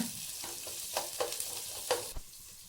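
Onions stir-frying in an oil pan with crushed garlic, giving a steady sizzle broken by several sharp scraping stirs of a spatula. The sound is close and alone, with no talk.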